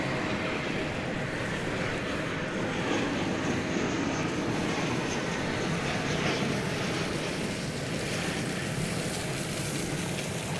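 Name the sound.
American Boeing 737-800 arriving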